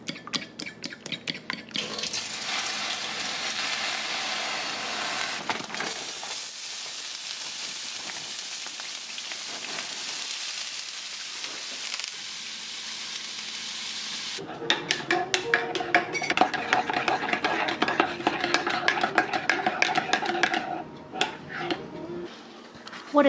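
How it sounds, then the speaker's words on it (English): Hash browns sizzle in a stainless steel pan, a dense steady hiss that drops away for a stretch, then returns louder with scraping and stirring clatter, with faint talk mixed in. "So I'm going to make some hash browns in this pan."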